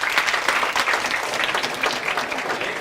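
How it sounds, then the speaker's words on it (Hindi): Loud, dense applause from a lecture class for a student, a steady wash of many hands clapping at once with no pause and no voices over it. "जोरदार तालियां"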